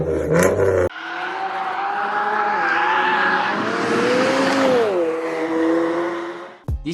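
A rally car roars past on a drag strip, its engine note rising loud and close then dropping in pitch as it speeds away, with a sharp burst at the start and end and no talk.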